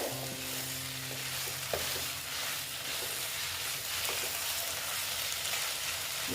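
Dry bitter gourd and pumpkin stir-fry sizzles steadily in a pan while being stirred, a close, continuous frying hiss with light scraping, no voices.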